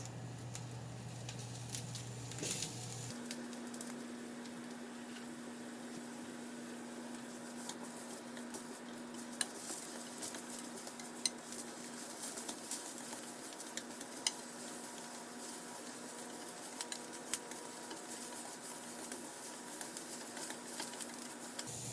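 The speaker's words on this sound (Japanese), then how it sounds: "さっと炒めて、ごま油の香りがしてきたら" Sweet vinegar pickled daikon stir-fried in sesame oil, a faint steady sizzle under a low hum with a few soft utensil taps scattered through a long quiet stretch.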